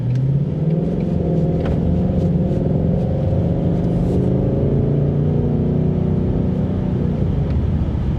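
A 2021 Ford Mustang GT V8 that was flood-damaged runs steadily with a deep, loud rumble close by, its pitch rising and falling slightly as it revs gently, with no talking.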